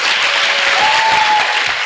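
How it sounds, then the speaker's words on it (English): A summit audience claps loudly and steadily for a couple of seconds, a dense continuous patter of many hands with a faint tonal whine in the background. "the more you clap, the more you are winning the thing"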